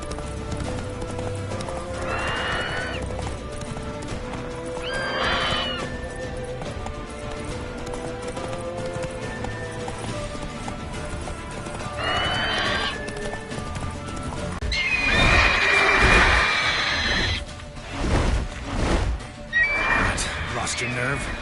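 Roach, a horse in the video game The Witcher 3, whinnies several times over a steady clip-clop of hooves, with game music and speech running underneath and a louder stretch of neighing late on.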